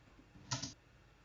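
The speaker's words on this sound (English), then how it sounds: "So that's the sound of me pressing the space bar." A single space bar press on a computer keyboard, one short, crisp click with a soft thump, heard alone and close up in a quiet room.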